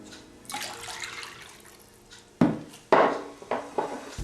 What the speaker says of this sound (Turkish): Normal suyu ekliyoruz